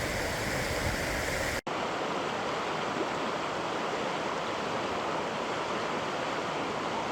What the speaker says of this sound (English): Look at this, just churning clear blue-green water